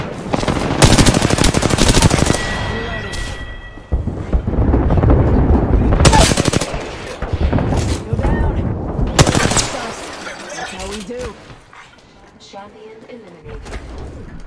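Rapid automatic gunfire from enemies in the Apex Legends video game, several loud sustained bursts separated by brief pauses, with voices talking over parts of the fight.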